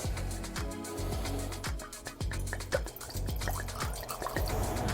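Clean water being poured into a brewing vessel with sugar and yeast nutrient for a peach cobbler hard seltzer, with a run of close, quick splashing drips and gurgles that continues steadily.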